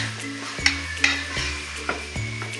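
Ginger garlic paste sautés in a pan for chicken pasta, a soft sizzle under a few sharp spoon scrapes and clinks against the pan, close and without talk.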